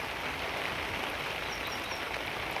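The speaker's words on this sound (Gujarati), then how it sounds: "તો જમાવટનો વરસાદ પડે છે" Heavy rain pours down in a dense, unbroken hiss, loud and even from start to finish, with no voices.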